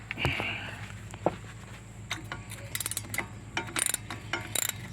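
A ratchet works on a bolt at the rear wheel of a Ford Falcon AU during a wheel bearing repair, giving bursts of rapid clicking with metallic clanks, loud and close in a workshop.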